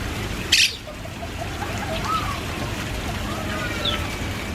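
Birds call faintly in a free-flight aviary at KL Bird Park, scattered chirps and short whistles over steady background noise, with one brief sharp burst near the start.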